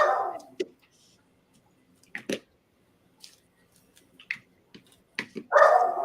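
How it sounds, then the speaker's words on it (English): Several dogs bark in short, scattered bursts, some sharp yips and a louder bark near the end, with quiet gaps between them. "That's why my dogs are so actively barking."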